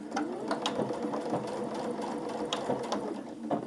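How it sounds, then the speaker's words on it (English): A sewing machine stitches a dress strap closed, its steady mechanical whirring and rapid needle clatter running continuously and close at hand, with no talk. "We're going to sew that closed."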